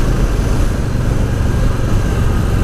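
A 2024 Harley-Davidson Softail Standard with the 107 engine rides along, its steady, loud engine drone and wind rush continuous throughout.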